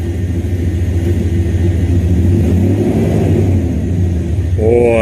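An engine idles steadily, a loud continuous low hum with a faint rising whir near the end.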